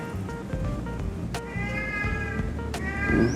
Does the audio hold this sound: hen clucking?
no